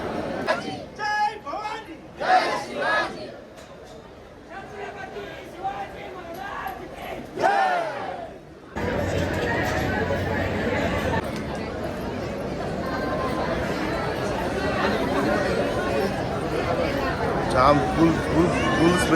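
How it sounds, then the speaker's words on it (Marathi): Dense crowd of pilgrims packed in a long queue at a Maharashtra temple, a constant roar of chatter and shouts filling the space, with nearby voices talking over the babble. "गर्दी बघा फुल क्राऊड आहे आज"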